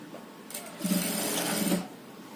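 A sewing machine stitches a plain net skirt lining in one short burst of about a second, its needle rattling fast and close before stopping, with faint background noise around it.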